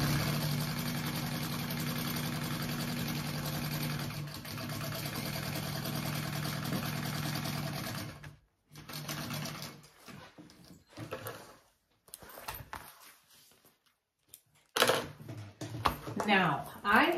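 A sewing machine bastes the layers of a fabric bag together, running with a steady mechanical hum for several seconds, then stopping and starting in shorter bursts with handling noises and some talk.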